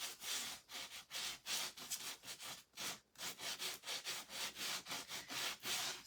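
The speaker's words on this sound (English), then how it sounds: "I think sand that off a little bit." Sanding by hand on a decoration made from an old book, a rapid series of rhythmic back-and-forth scratchy strokes, close and steady with no talking.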